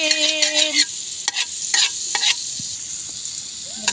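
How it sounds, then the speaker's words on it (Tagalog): Onion and garlic stirred and sautéing in a pan, with a steady close sizzle broken by several distinct scraping strokes of a utensil. "Haluin."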